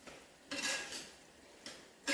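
A spoon stirs a cooked dish in a pan after coriander leaves go in, giving a few short scraping and clinking bursts separated by quiet gaps.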